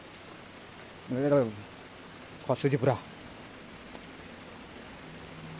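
Rain falls steadily along a Kedarnath mountain cycling pilgrimage route, a constant soft wash of noise running through the whole stretch, with a man's brief bursts of speech over it.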